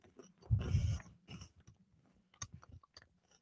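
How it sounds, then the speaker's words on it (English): Crunchy Malteser chocolate being bitten and chewed close to the microphone, one loud crunch followed by a series of smaller, irregular chewing crackles in a quiet room. "I'm gonna have a Malteser one now."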